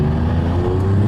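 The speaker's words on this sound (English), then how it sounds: "all of the air noises, the suction sound, obviously the turbocharged engine when you lift off" A turbocharged Toyota GR Yaris fitted with a new intake, heard from inside with the windows down: a loud, steady engine drone with whooshing air and suction noise, no talk over it.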